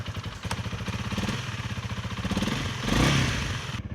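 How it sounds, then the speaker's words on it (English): A 2025 Honda CRF300L dual sport motorcycle pulls away, its single-cylinder engine chugging in a steady rhythm close by, then revving up to a louder surge near the end. "let's take this 2025 Honda CRF300L for a ride."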